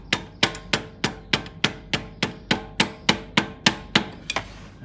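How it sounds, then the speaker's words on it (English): A hammer strikes a metal bar about fourteen times in a steady rhythm, each sharp ringing tap close and distinct, while releasing drive belt tension on a Honda Jazz 1.4 engine. "Let's get a bar on it with a hammer and give it a little tap"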